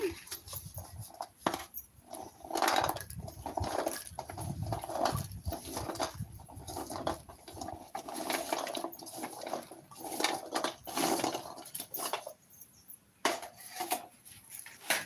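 Raw tamarind pieces pounded in a stone mortar, a steady series of hard thudding knocks with clattery stone-on-stone edges, close and fairly loud throughout.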